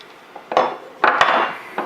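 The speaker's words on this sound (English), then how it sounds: "you simply allow the locking lugs to clear the bolt carrier body and then move the bolt forward" The bolt of an SVT-40 rifle is worked free of its bolt carrier, giving a few close metallic clicks and scraping slides spread over about two seconds.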